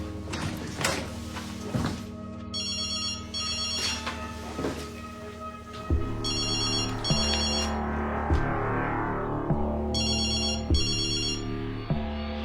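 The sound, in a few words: telephone ringing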